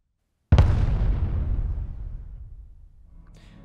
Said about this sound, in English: One of them is a kind of explosion layer that plays usually right at the beginning of like a flyby of the camera or some kind of thruster burn.